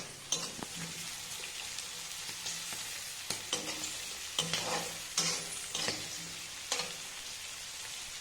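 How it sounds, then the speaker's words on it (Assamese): Carrots and peas fry in a pan with a steady sizzle, while a utensil scrapes and stirs in repeated sharp clinks throughout; close and moderately loud, with no voices. "এইফালে বনাবলৈ গাজৰে মটৰে ভাজি আছে মায়ে"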